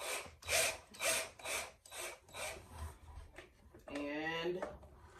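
A series of rhythmic scraping, rasping strokes of a Phillips screwdriver turning a screw while fitting new pulls on a vanity, followed by a brief voiced sound near the end.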